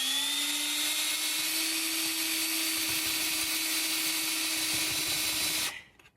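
A power drill spins a large bit, dipped in motor oil, boring a pilot hole in a steel rock slider for an '89 Cherokee, a steady high whine held close and loud for several seconds before it cuts off.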